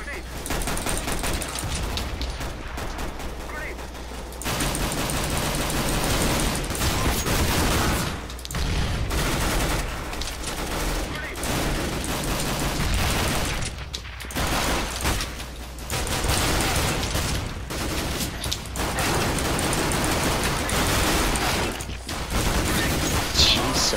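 Near-constant gunfire in a Counter-Strike: Global Offensive turbo deathmatch gun-game round, including pistol shots, with dense overlapping bursts, short gaps and occasional louder blasts, while a player talks throughout.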